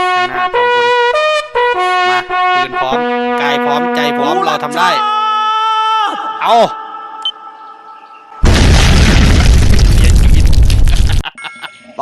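Explosion in the video game Free Fire: a loud, roaring blast lasting a couple of seconds bursts in after a run of ringing, melodic in-game chimes and tones.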